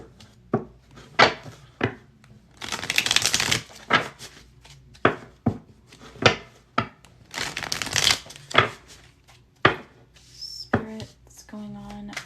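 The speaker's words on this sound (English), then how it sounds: "dive into the tarot now and see what else we will find with the tarot" Tarot cards are shuffled up close. Two longer riffling bursts are mixed with sharp taps and card slaps at an irregular rhythm, and a voice comes in briefly near the end.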